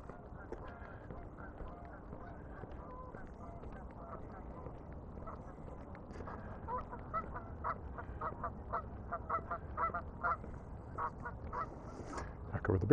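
Geese by a lake honking in a scattered chorus, repeated nasal calls that grow busier and closer toward the end over a quiet outdoor background.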